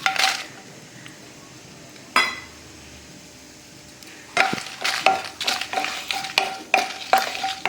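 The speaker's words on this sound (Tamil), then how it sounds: "கொஞ்சமாக நம்ம நல்லெண்ணெய் ஊற்றி இந்த மிளகா நம்ம வறுத்து எடுத்துக்கலாம்" Dried red chillies fry in a little sesame oil in a pan, with a faint sizzle under sharp metallic clinks and scrapes of a spoon stirring, sparse at first and then rapid and repeated, no speech.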